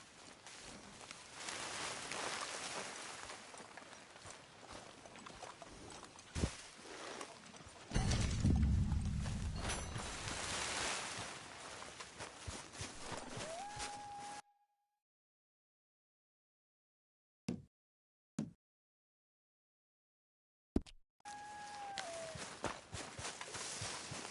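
Horses walk along in Red Dead Redemption II, a steady clip-clop of hooves on open ground under ambient game sound, broken by a stretch of silence and a few brief sounds.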